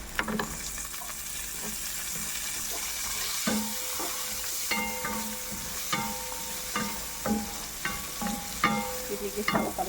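Carrots are tossed into a hot pan and stir-fried, giving a steady sizzle with repeated scraping and clacking stirs throughout.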